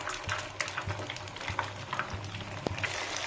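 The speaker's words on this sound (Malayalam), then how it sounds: "ഹൈ ഫ്ലെയിമിൽ ഇട്ടിട്ട് ഫ്രൈ ചെയ്തെടുക്കുക" Brinjal slices fry in hot oil in a pan over a high flame, giving a steady close crackling sizzle with light scraping and clinks from stirring.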